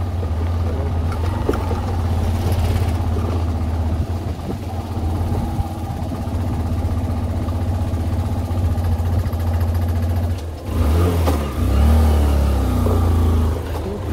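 Engines rumble and drone on a road near Jatni outside Bhubaneswar as cars and four-wheelers pass, a steady low hum with a brief dip and then a closer, louder surge near the end.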